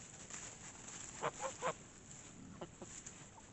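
A goose gives a few soft honks, three in a quick run and then two more, faint and fairly distant, with no one speaking.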